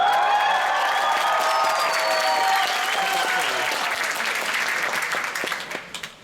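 Audience at a Rooster Teeth panel at Armageddon Expo Melbourne 2011, applauding and cheering loudly in a dense sustained wash of clapping with whoops, fading out toward the end.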